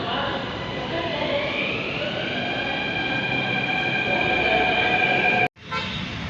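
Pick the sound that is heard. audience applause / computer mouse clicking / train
train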